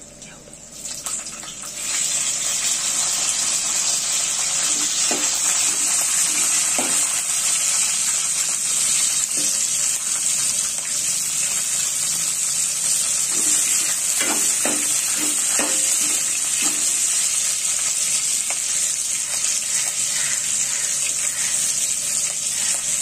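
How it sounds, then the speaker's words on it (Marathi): Chillies fry in hot oil with a steady, loud, continuous sizzle throughout, occasional stirring clinks breaking through, recorded close in a home kitchen. "हे तेलामध्ये परतून घेणार आहेत"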